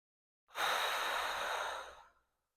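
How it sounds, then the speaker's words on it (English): A single long, deep breath drawn in during a guided breathing exercise, a steady airy rush lasting well over a second before tapering off, close and alone. "So take a deep breath in again."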